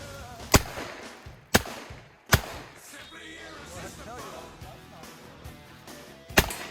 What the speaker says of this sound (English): we're gonna be shooting one-handed, see how it feels